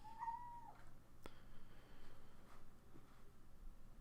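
A cat meows once, fairly near, followed by faint rustling and a sharp tap in an otherwise quiet room.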